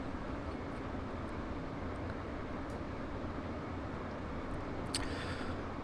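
Class 319 electric train running in Train Simulator 2015, a quiet steady rumble from the cab with a few faint clicks and a brief rattle near the end.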